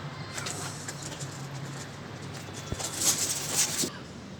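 Teddy breed pigeons coo softly in a loft, low murmuring calls running steadily under faint background noise, with a slightly louder stretch near the end.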